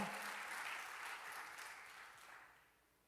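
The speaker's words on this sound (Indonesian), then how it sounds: "yuk tepuk tangannya bisa lebih dahsyat lagi buat Yesus Tuhan kita." Church congregation in Jogja clapping for Jesus during a worship service, a dense wash of applause that is strong at first and then thins and fades out over a few seconds.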